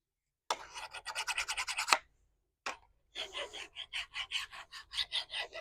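A steel file is worked by hand along a cutting blade being sharpened for lopping branches off a peepal or banyan tree. There is a quick run of even rasping strokes, a brief pause, then another steady series of close, scratchy strokes.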